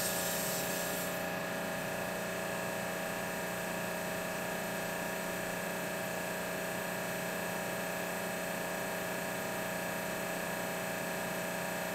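A Corian sink being power-sanded with 220 grit paper, a loud steady whirring drone with a constant tone running unbroken for the whole stretch.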